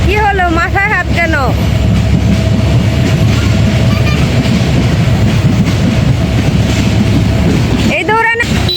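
A train runs at a market in Mirpur, a steady rumbling wash of noise that fills most of the stretch, with a child's and an adult's voices heard at the start and again near the end.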